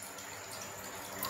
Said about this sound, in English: I filled the tank with water.